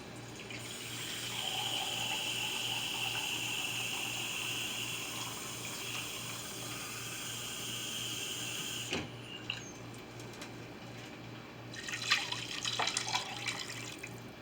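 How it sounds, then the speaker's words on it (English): Water poured into a crock pot while cooking a chicken, vegetable and dumpling stew, giving a steady, faint running and splashing that goes on for several seconds and is joined by brief clatters and a short burst near the end. "I'm going to add 2 cups of water."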